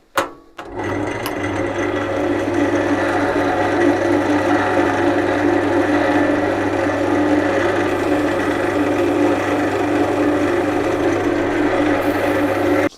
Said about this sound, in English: you just stick your lathe on a high speed, just so that they melt onto the work, and then buff them off afterwards